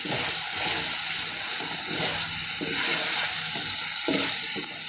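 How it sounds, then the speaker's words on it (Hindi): Okra gets stirred into a sizzling spice masala in a pan for restaurant-style bhindi masala: a continuous close frying hiss with repeated scraping stirs. "तो अब मैं साथ ही ये भिंडियाँ इसमें डाल दूँगी। इनको अच्छी तरह से मिक्स कर लें।"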